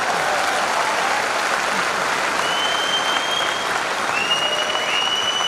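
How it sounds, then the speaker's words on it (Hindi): An audience applauds steadily at a motivational business seminar, a dense, continuous wash of clapping that holds at full level from start to finish with no talk over it. "तालियां बजा सकते हैं आप?"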